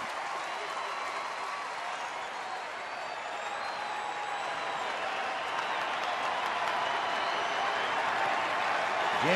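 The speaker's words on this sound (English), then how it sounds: "the crowd trying to cheer him on" Baseball crowd applauds and cheers in a stadium, a dense continuous wash of clapping and voices that swells slightly louder toward the end.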